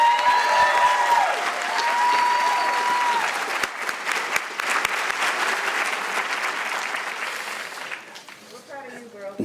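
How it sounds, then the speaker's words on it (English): Sustained applause from a commencement audience at a graduation ceremony, dense and steady clapping for several seconds before fading, with voices heard over it near the end. "let's have one more round of applause for Chelsi."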